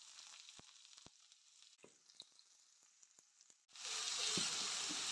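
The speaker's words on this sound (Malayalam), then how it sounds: "സവാള നന്നായിട്ട് വറുത്തിയെടുക്കാം." Chopped onions hit hot coconut oil with curry leaves for a mushroom curry, scattered crackles first, then a sudden loud, steady sizzle that fills the rest of the clip.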